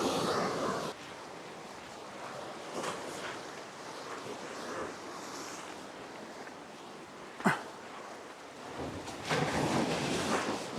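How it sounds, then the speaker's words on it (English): Faint sea surf washes in the distance near a quiet van parking spot on a southern European coast, a soft continuous hiss with gentle swells, mixed with wind buffeting the microphone and a single sharp knock. "You could just about hear the sea as well"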